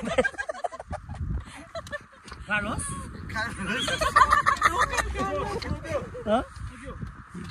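A horse whinnies on the Gosaikunda trek in Nepal, a shrill, wavering neigh mixed in with people talking nearby.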